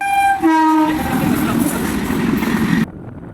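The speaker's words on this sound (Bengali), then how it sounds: "ট্রেন চলে আসলো পরপর দুটো" A loud train horn blares with sustained harmonic tones, then a heavy rumbling roar of rail cars rolling past close by before cutting off abruptly.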